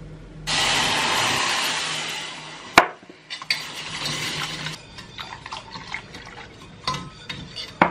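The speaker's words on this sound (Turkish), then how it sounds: "Şimdi bunun üzerine 2 su bardağı sütü ekliyorum." Two cups of milk are poured into a pan on a stovetop, a steady near liquid rush lasting a few seconds, then a clink and softer trickling, clattering sounds with no talk.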